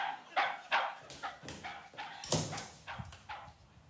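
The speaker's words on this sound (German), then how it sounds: "Sperrt den Köter in den Keller!" A dog barks repeatedly in short, sharp yaps, about a dozen in quick uneven succession, close and loud with nothing else competing.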